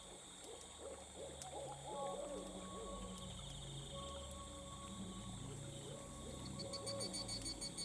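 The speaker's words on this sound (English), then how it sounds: "I can hear an owl." An owl hoots several times in soft, low repeating calls from a short distance, set against a steady ambient night drone with faint chirping, with no talking.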